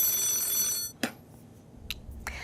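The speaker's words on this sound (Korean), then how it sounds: "역시나 전화 걸어주시네요. 전화 받아보도록 하겠습니다." A telephone rings with an incoming call, a bright electronic ringtone that cuts off early, followed by sparse clicks and handling noises in a quiet room.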